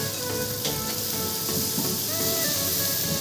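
Chopped tomatoes hit a pan of lightly browned onions for dhaba-style egg tarka, setting off a steady, dense hiss and sizzle that continues evenly throughout, close and fairly loud.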